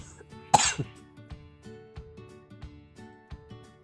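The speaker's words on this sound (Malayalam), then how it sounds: "അയ്യോ ചുമച്ചു പോയി" A single sharp cough rings out, followed by a quiet rhythmic ticking pattern in a calm, low-level background.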